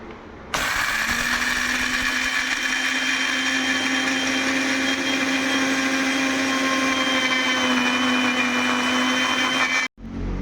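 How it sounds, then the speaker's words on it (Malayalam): A mixer grinder jar grinds peanuts for homemade chocolate peanut butter, a loud steady whirring motor drone that starts abruptly, runs continuously near and alone for about nine seconds, then cuts off. "പീനട്ട് ഞാനിവിടെ മിക്സിയുടെ ജാലിട്ട് അടിക്കാൻ പോവേണ്ട"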